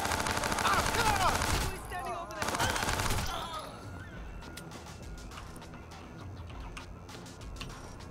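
Gunfire erupts in a Watch Dogs 2 shootout, with loud rapid bursts early on giving way to scattered sharper shots over a lingering background din.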